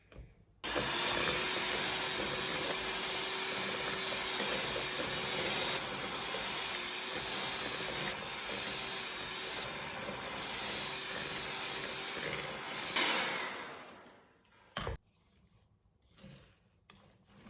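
An electric mixer whirs steadily as it beats cake batter for a pineapple and coconut cake while spoonfuls of softened butter are added. The loud, continuous motor hum cuts off near the end, leaving quiet.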